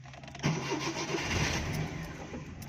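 A Suzuki Mehran car's engine is cranked with the starter and catches, a grinding churn that settles into a rough, steady running engine close by.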